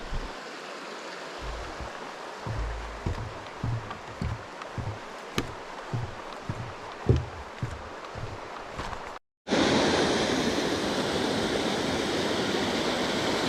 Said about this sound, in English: Tons of little waterfalls like this.